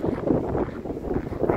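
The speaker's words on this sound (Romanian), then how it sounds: "Acum bate un vânticel" A light winter wind blows across the microphone outdoors on a mountain, giving a steady low rumbling buffet.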